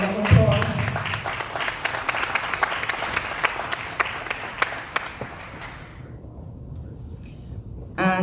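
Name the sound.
applause for student essay competition winners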